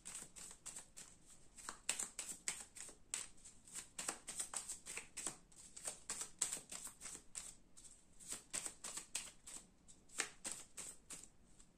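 A deck of tarot cards being shuffled by hand, a long run of quick, crisp riffling flicks repeating in uneven bursts, close and quiet with no talking.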